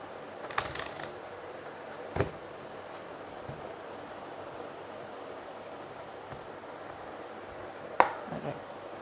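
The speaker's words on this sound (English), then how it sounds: "Okay, and I'll shuffle." Quiet, soft riffling and shuffling of tarot cards, with a few sharper slaps and taps of the deck near the start, middle and end over a low background hush.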